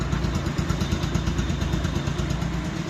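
Bajaj Pulsar 150cc motorcycle with twin disc brakes idles steadily up close, a smooth, even low engine thrum with light mechanical clatter and no talk over it.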